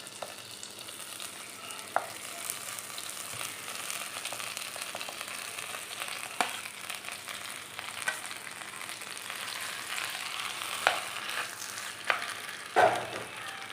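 Cooked tapioca frying in melted butter in a pan: a steady low sizzle runs throughout, with occasional soft taps and stirs, close and fairly quiet.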